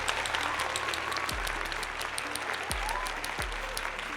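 Applause from a live-stream audience celebrating someone passing their driving test, a steady crackling patter of clapping that runs the whole time, with low thumps cutting in now and then.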